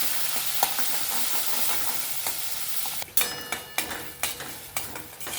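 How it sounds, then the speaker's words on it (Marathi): Spice masala with turmeric and asafoetida sautés in a pan: a steady bright sizzle, then a spoon stirring and scraping in regular strokes over the frying for the last few seconds, with no voices. "अशा प्रकारे हा मसाला आपल्याला छानपैकी परतून घ्यायचा आहे"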